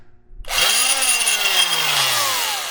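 An old handheld reciprocating medical drill or saw in an abandoned hospital starts up abruptly after near silence and runs loud and close, its motor whine sweeping up and then slowly sagging in pitch.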